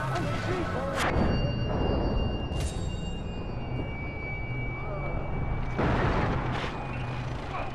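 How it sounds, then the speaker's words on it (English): Explosions in the Far Cry 3 video game, during the Black Gold mission: a loud, continuous roaring rumble with sharper blasts rising out of it at intervals. "Okay, I don't care how the explosion looked like."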